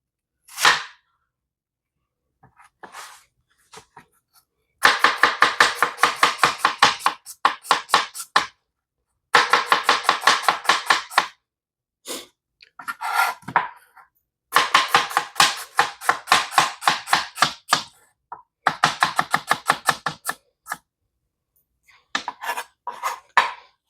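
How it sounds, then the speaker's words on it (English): A knife chops an onion on a cutting board, fast, sharp, evenly spaced strikes in several long bursts separated by short pauses, close and loud with no talking. "I'm gonna go in and start chopping up my vegetables"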